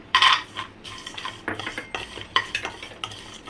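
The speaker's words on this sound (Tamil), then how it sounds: "இது எல்லாத்தையும் போட்டு நல்லா கொஞ்சம் வறுத்துக்கலாம்" Pistachios, almonds and cashews are stirred in a dry pan while roasting, a spoon scraping and clinking against the metal in quick irregular strokes, close and fairly loud, with no voices.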